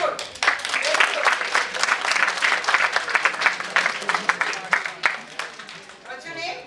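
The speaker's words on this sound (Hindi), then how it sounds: "और थोड़ी सी जोर से ताली बजाओ" Audience applause during a training session on personal agility and resilience, a dense patter of many hands clapping loudly for several seconds before tapering off, with voices mixed in.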